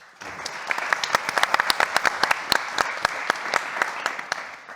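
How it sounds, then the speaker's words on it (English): Conference audience at a tech summit gives a round of applause, a mid-sized crowd of distinct sharp claps building quickly and carrying on steadily before easing off, with no talk over it. "You can also give a round of applause to Theo as well, please."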